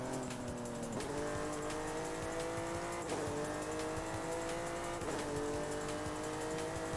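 Jaguar XJ13 race car engine in Forza Horizon 5, revving loud and close with a steady roar and rising harmonic sweeps that climb through repeated gear changes roughly every two seconds.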